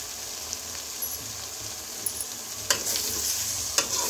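Three eggs frying in a pan in a home kitchen, a close, steady hissing sizzle with faint pops and a few louder scraping bursts near the end.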